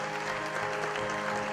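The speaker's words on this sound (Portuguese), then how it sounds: "Uma salva de palmas para elas." An audience claps at a church baptism service in a continuous, even burst of applause, with a sustained musical tone running beneath the clapping.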